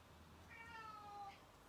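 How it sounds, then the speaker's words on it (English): A cat gives a single drawn-out meow, faint and in the background of a quiet indoor room. "I don't know whether or not you could hear him meowing then in the background."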